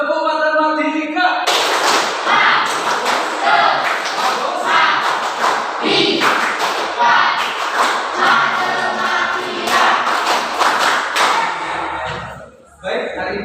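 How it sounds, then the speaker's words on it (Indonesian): A school class claps hands together in a rhythmic pattern during a maths lesson, many pupils producing loud, sharp, patterned claps, with chanting voices mixed in, before it stops near the end. "biar semangat kita tepuk tangan bersama-sama"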